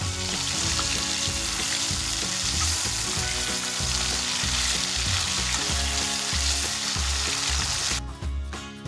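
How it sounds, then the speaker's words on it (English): Chicken pieces frying in a pan of very hot oil until half cooked, a loud, dense, continuous sizzle with crackling and occasional stirring, close up and without talk. "I'm going to fry these until it's half cooked"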